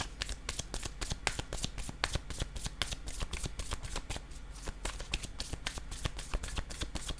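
Playing cards shuffled and handled for a tarot-style reading, a dense run of quick, crisp riffling snaps and flutters repeating steadily throughout at close range, with no talk.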